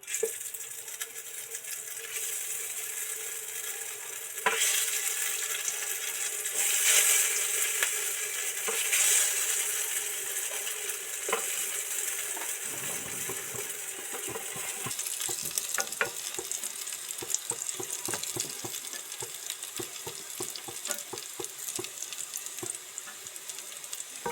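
Pieces of masoor dal dhoka frying in hot oil in a kadai, giving a steady broadband sizzle with scattered crackles and pops that runs the whole time, near and fairly loud.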